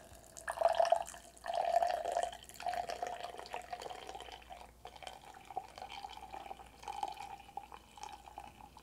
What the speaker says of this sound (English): I think I'm just gonna go ahead and add about 7 ounces of water since these are light roast.